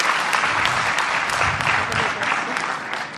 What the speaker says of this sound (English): pour faire arrêter les applaudissements